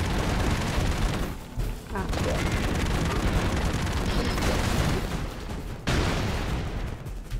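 Gunfire and explosions from the side-scrolling action game Broforce, a dense, loud barrage of overlapping shots and booms that runs almost continuously, with brief dips before two seconds and near six seconds.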